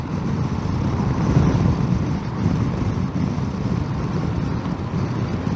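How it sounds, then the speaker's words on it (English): Heavy wind roars and buffets constantly while riding a 2018 Suzuki DL650 V-Strom motorcycle, a dense, loud rumble that swells and dips throughout with no voices. "This is definitely the worst wind I have ever had on any bike ever"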